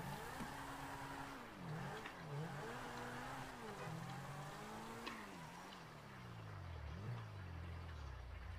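Car engine from GTA 5 gameplay, revving and shifting pitch repeatedly as the vehicle accelerates, brakes and turns, with occasional tire squeal, loud and continuous with no talk.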